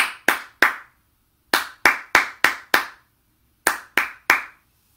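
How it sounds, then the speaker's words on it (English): A Thelemic knock, a ritual battery of sharp hand claps in three groups, three then five then three, each clap crisp and close with silence between the groups. "gave that clap, that Thelemic knock"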